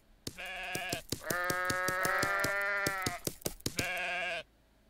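Cartoonish sheep bleats from the god-simulator game WorldBox, two or three drawn-out, buzzing baa sounds with a clicking tremolo, loud and close with no talking.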